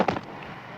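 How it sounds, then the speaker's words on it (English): A special-effects explosion set off on the set of The Empire Strikes Back: a single sharp burst that fades into a rumbling tail, loud and close, with no one talking. "Explosion 3."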